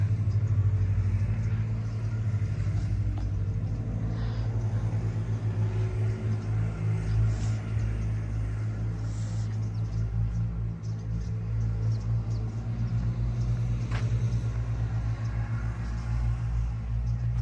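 A car engine rumbles close by in a steady low drone that holds through the whole stretch, with no voices.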